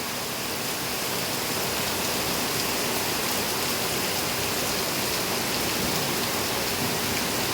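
Heavy rain pours down steadily in a dense, continuous hiss that stays loud and unbroken throughout, with no voices.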